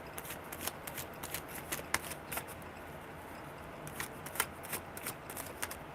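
Tarot cards being shuffled in quick riffling bursts, close and quiet, repeating several times with short pauses between.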